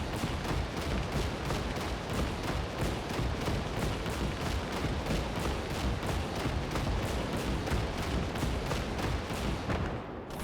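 Rapid, dense tank gunfire from an experimental super tank in the video game Gates of Hell, a continuous rattling barrage of evenly spaced loud shots that cuts off near the end.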